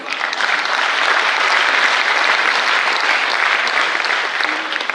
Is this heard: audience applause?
yes